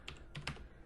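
Brief burst of typing on a computer keyboard in a quiet room, a few close key clicks clustered in under a second.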